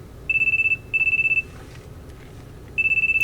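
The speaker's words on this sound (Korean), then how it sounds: "그 순간 내 핸드폰이 요란하게 울렸다." A mobile phone rings loudly in repeated electronic bursts, three evenly spaced trilling rings with short silent gaps between them, close by and alone.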